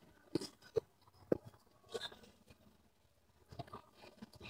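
Crispy fried chicken from Chick Ave crunches between teeth in several sharp, close bites followed by softer chewing, quiet between the crunches with no talking.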